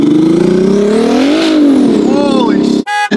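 A twin-turbo Ferrari F12 revs and accelerates hard on city streets in Los Angeles, a loud, close engine roar with rising pitch sweeping up and falling back, ending in abrupt gaps and a brief burst near the end.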